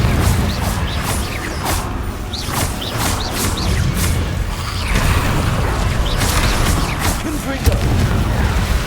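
Repeated Confringo fire spell blasts in Hogwarts Legacy, loud booming explosive impacts in quick succession amid dense combat sounds, close and continuous, with voices mixed in.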